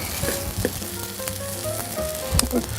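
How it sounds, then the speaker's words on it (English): Scrambled eggs cooking in butter in a pan give a steady close sizzle, with a few brief stirring clicks and scrapes as they are moved around. "So just move your egg around so it just kind of cooks."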